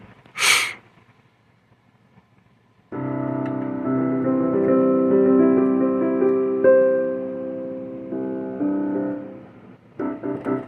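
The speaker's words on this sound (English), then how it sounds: "So on your Korg, you can actually have a stereo piano sound" A Korg keyboard's stereo piano sound plays through Go Keys speakers as a run of sustained, moderately loud chords and notes, preceded by a brief sharp breath or snort and a short pause.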